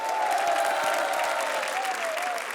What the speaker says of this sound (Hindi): मानव और अर्चना के लिए जोरदार तालियां।